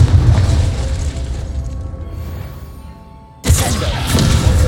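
Fiery Confringo spell explosion striking a training dummy in Hogwarts Legacy, a loud boom that dies away then bursts again sharply with crackling blast noise, no speech.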